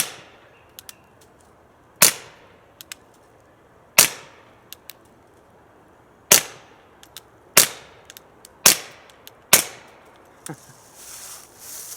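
Suppressed .22 LR rimfire gunshots through a 9mm silencer sound as sharp, moderately loud pops, about eight spaced shots with quiet gaps between them.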